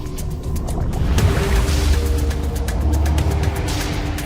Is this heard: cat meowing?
no